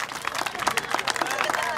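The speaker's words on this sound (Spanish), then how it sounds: "Dale un aplauso a Cristo esta noche" A congregation at an evangelical church service applauds, with loud, somewhat uneven clapping and crowd noise mixed together throughout.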